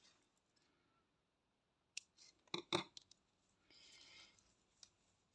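Scissors snipping crochet yarn close up, a quick cluster of sharp metallic clicks and cuts followed by a soft rustle of thread, quiet otherwise, with no talking.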